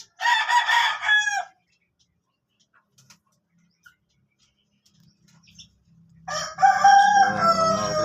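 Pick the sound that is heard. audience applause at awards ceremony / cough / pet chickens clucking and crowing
pet chickens clucking and crowing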